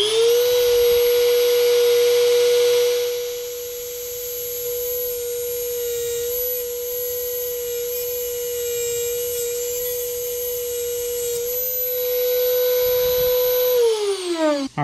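A small power tool on a DIY arrow-cutting jig whines at a high, steady pitch as it cuts excess off an arrow shaft, the tone dipping slightly under load midway before spinning down at the end.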